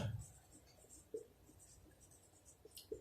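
Pencil writing on paper during a fourth-grade math lesson, faint scratchy strokes, quiet and close, with a few soft taps and brief pauses.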